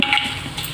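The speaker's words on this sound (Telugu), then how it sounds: "ఆయిల్ కాగింది, జీలకర్ర వేస్తాం" Cumin seeds dropped into hot oil crackle and sizzle in a steady, close hiss with a few brighter pops near the start.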